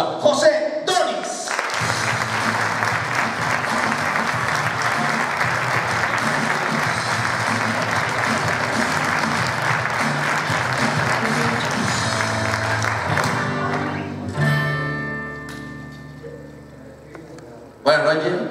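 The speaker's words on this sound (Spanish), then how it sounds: "vamos a recibir con un fuerte aplauso a José Donis." A comedy show audience at the César Manrique cultural centre bursts into sustained applause to welcome a comedian, loud and continuous for about twelve seconds over music, then dies away as the music carries on and a voice comes in.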